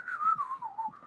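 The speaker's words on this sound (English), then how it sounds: "I'm just happy I'm whistling." A person whistles a single wavering tune, the sustained pitch gliding slowly downward and back up, close and clear, over about a second with no talking.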